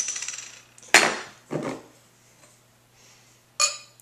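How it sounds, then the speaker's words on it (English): A Lagunitas beer bottle being opened indoors: a sharp metallic click and hiss from the cap prying off, followed by a short clink, then a quieter scrape, then another sharp click near the end, all fairly close with no voices. "let's crack open this beer and review it."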